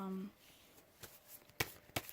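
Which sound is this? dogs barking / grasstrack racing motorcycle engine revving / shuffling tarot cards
shuffling tarot cards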